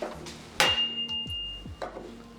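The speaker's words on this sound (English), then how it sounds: "let's give it a try with a proper hammer" A hammer strikes during a rear wheel bearing job, giving one loud sharp metallic blow followed by several fainter knocks and a ringing tone that lingers.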